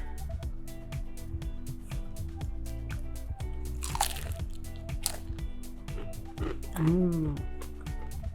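Someone bites and chews a crunchy fried wonton filled with smoked sardine and cream cheese, close crackling crunches repeating in a steady chewing rhythm, with a short vocal murmur near the end.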